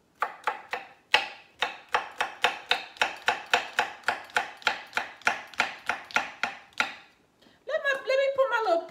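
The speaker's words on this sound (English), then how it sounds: "I'm gonna chop up our okra" A knife chops okra on a board in a fast, even run of about twenty crisp strokes, close and clear. A brief clattering rustle follows at the end.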